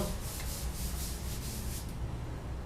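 Writing being rubbed off a board during a trigonometry lesson: a continuous, even, dry rubbing hiss lasting the whole stretch, close and steady, easing slightly near the end, with no voices over it.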